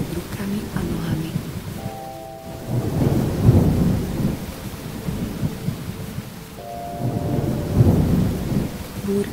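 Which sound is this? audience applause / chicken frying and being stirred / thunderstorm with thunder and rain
thunderstorm with thunder and rain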